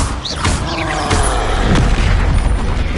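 A Confringo blasting spell detonates in a loud, rolling explosion. The boom rumbles on for several seconds, layered with crackling debris and mechanical clatter.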